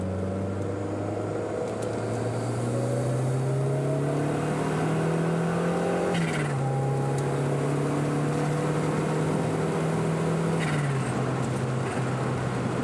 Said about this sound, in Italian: sentiamo un po' il turbo entrare in azione, dopo prende tranquillamente